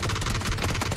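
AK rifle fire in the video game PUBG, a loud, rapid automatic burst with shots rattling in a steady stream throughout the short moment.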